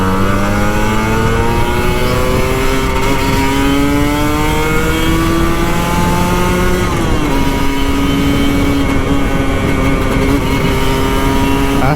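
An old Kawasaki Ninja RR 150 two-stroke motorcycle with an open exhaust screams loudly up through the revs while riding home on a busy road, its pitch climbing steadily, dipping at a gear change, then rising again.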